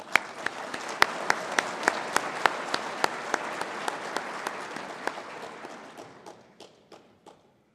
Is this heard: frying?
no